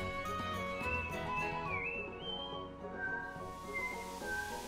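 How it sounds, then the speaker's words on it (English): Mario whistles his own theme song in Super Mario RPG, a clear melodic whistle that glides and trills over steady game music, with no talking. "I love that Mario whistles his own theme song"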